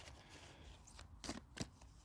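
Tarot cards are shuffled softly by hand, quiet rustling that builds into two brief, crisp riffling snaps near the end, close and faint.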